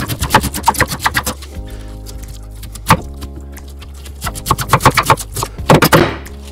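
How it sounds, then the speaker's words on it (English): A knife shreds sweetheart cabbage on a chopping board in quick runs of sharp, evenly spaced chops, close and loud, broken by pauses over a steady low background hum. "just lie it on its side and shred it"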